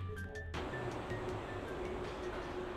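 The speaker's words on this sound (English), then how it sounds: "Second time we're taking the train." Train ride in the video game No More Heroes: steady, loud rolling rumble with a faint sustained tone runs continuously after a brief quieter opening, with no talk.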